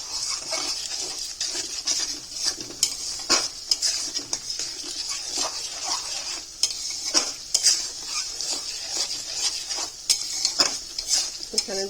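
Ginger-garlic paste with ground nutmeg and mace fries in oil while a spoon stirs and scrapes the pan constantly, busy clatter over a bright, continuous sizzle, close and loud.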